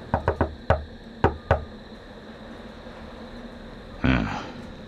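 A special coded knock on a cellar door in the video game Nocturne: a quick rhythmic series of six sharp raps in two groups, close and clear, followed by a heavier thud or door sound.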